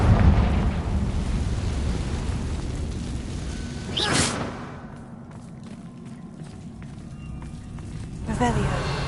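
A Confringo blasting curse explodes in Hogwarts Legacy, a sharp loud boom midway followed by rumbling debris and a second burst near the end, with talk over the opening.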